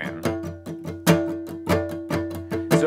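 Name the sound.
guitar strumming with the whole chord muted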